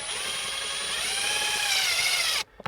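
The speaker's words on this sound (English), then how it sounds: "we're just going to insert our 4 screws now" A power drill whirs steadily at close range, driving a screw into an accessory panel in a Mitsubishi Pajero Sport, then stops abruptly and leaves a few faint clicks.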